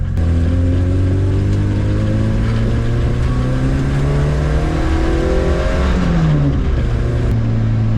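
A Fiat Panda engine revs hard and continuously on a trackday, its pitch sweeping up and down with stumbles from a fuel delivery fault, loud and close throughout with no talk.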